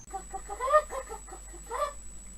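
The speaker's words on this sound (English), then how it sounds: "Chicken, lay a little egg for me." A chicken clucks close by in a series of short, nasal calls with two louder, drawn-out squawks, over a faint steady background tone.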